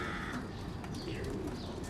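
Soft pigeon coos murmur over a constant noisy background, faint and low, with no one speaking.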